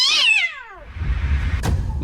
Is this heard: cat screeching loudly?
yes